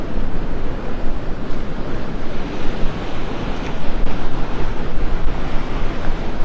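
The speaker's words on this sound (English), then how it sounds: "Get a good workout walking into the wind this morning." Wind and surf at Delnor-Wiggins beach in North Naples on a windy morning: steady broadband roar of breaking waves with gusting wind buffeting the microphone, continuous and loud throughout, no voices.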